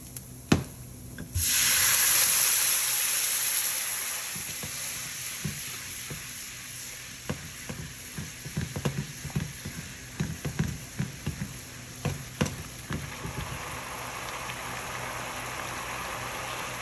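White wine hits toasted risotto rice in a pan over medium heat, a loud hiss bursting up at first, then settling into a steady sizzle with clicks and scrapes of stirring.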